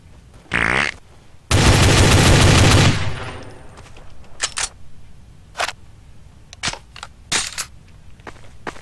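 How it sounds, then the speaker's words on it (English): Gunfire in Counter-Strike: Source on the Dust 2 or Office map: a single sharp shot, then a loud sustained automatic burst lasting over a second, followed by scattered single shots at varying distances. "Who is shooting?"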